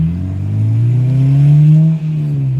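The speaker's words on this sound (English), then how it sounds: "VTEC just kicked in" Honda Integra Type R with a K20A engine revving hard as VTEC engages, a loud, close rising engine note that climbs steadily in pitch over a couple of seconds, dips briefly, then carries on.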